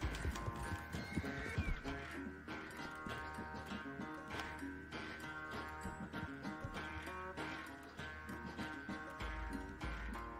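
Horses galloping and neighing in a horse racing video game, rapid hoofbeats and occasional whinnies layered over steady game music at moderate volume.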